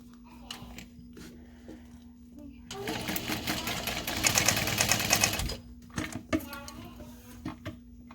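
A sewing machine runs at a 5 stitch length while stitching a Phoebe backpack, with a loud burst of fast stitching in the middle over a steady hum and a voice talking nearby.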